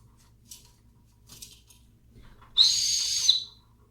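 A small whistle on a camping multi-tool blown weakly: a few faint puffs, then one thin, shrill tone held for under a second, close and isolated.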